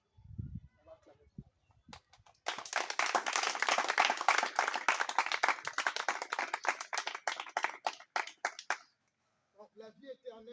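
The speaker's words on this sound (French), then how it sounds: "On va acclamer." A church congregation at a Sunday worship service bursts into loud, sustained rhythmic clapping and applause for several seconds before it fades out, with a voice speaking faintly before and after.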